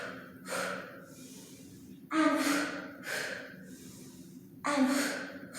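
Deep, audible inhalations through the nose and mouth during a Pilates twist, three breaths spaced about two seconds apart, each with a soft rasp and a slight hum underneath.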